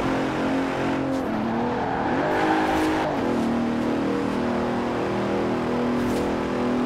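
Bentley Continental Supersport from 2017 in the Forza racing game, its engine note steady and close with a rising then settling pitch around the middle, like a smooth rev under throttle, continuous with no talk.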